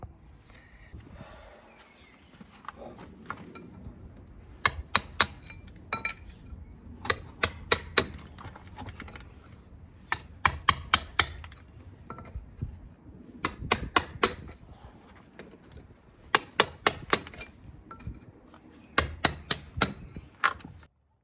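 A plug-in electric chisel raking out lime mortar joints in brickwork, heard as bursts of sharp, rapid metallic chipping and clinking that start and stop repeatedly over a quiet background.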